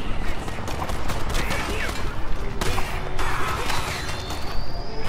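Rapid bursts of gunfire, crashes and impacts from the Strider video game on Xbox One clatter densely and loudly throughout, with a thin tonal whine rising near the end.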